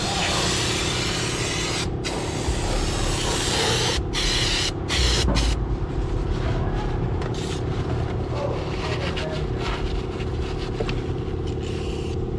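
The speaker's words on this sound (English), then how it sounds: "time for some spray and some wiping down action" Steady hissing spray from an aerosol can, continuous and close, with a few brief pauses in the stream.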